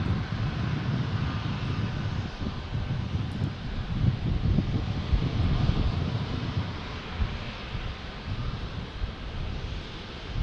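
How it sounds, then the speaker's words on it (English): A Southwest Airlines airliner takes off from San Diego airport, its engines a steady broad roar with wind noise on the microphone, heard from a distance with no talking. "this Southwest Airlines taking off right now is headed off to Denver, Colorado"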